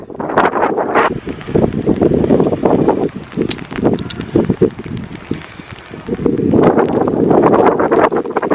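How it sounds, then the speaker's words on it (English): Strong wind on an exposed coastal headland near Kinsale, Ireland, buffeting the microphone in loud rumbling gusts that surge, drop briefly, then return, with no talk. "It's super windy up here."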